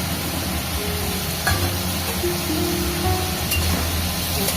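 Chopped tomatoes stirred in a hot pan make a continuous sizzle with scraping spoon strokes and a few light clinks, close and steady.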